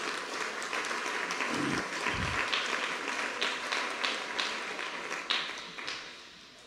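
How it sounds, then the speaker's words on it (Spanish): A church congregation at a sermon in Nahuala applauding together, with loose, fairly distant clapping throughout and a few sharper individual claps near the end, no one talking. "Si han aplaudido a Cristo Jesús."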